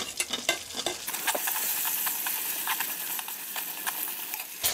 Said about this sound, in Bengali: এখন আমি সেদ্ধ করে রাখা ছোলা বুটগুলো দিয়ে দিচ্ছি।